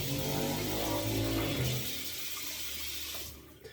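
Tap water runs into a bathroom sink to wet the face before shaving, a steady splashing stream for about two seconds that then drops to a faint trickle and quiet.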